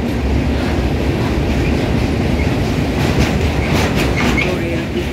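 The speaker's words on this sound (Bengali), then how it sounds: "রেল ব্রিজটি খুব বড়, আমাদের ট্রেন অনেকক্ষণ ধরে যাচ্ছে।" A train rolls across the long Godavari River rail bridge on the South Central Railway, a loud, steady rumble with rhythmic clickety-clack of wheels on the rails heard from on board.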